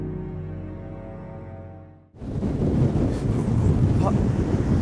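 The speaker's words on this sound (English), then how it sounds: "That bloody wind." Strong wind blows at the citadel of Calais, arriving as a sudden loud, broad roar of buffeting against the microphone that keeps going after a calmer, tonal opening.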